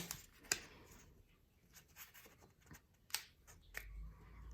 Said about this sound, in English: And then I'm going to fold it again up from here.